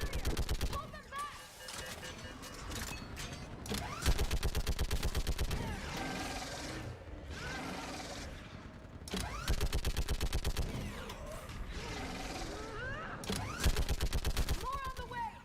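Rapid bursts of video-game gunfire from Mass Effect 3, sustained automatic volleys repeating across the whole stretch, loud and close, with shouted voices mixed in over the shooting.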